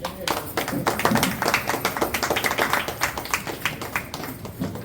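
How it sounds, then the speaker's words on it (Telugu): Children clap together at a devotional Ganesha bhajan, a lively run of many small hands that swells and then settles into a looser, rhythmic patter, with some voices mixed in. "అందరూ పిల్లలు చప్పట్లు కొట్టండి."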